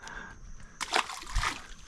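A small fish released back into the water lands with a short, close splash and slosh after a quiet moment, followed by a brief second splash.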